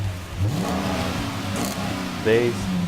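A car fitted with Blastin' Bob 6DB blast pack exhaust extensions on a cut-down tailpipe, a deep engine drone rising briefly in a rev near the end.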